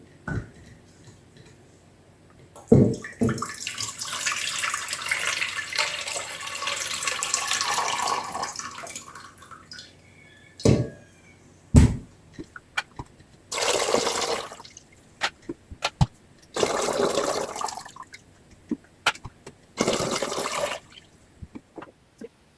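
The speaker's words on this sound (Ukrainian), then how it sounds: "Зливаємо воду у каструлю." Water from sterilised jars of home-canned pickled cucumbers is poured off into a saucepan: a long splashing pour, then several shorter bursts of running water separated by clinks and knocks of glass and pot in a kitchen.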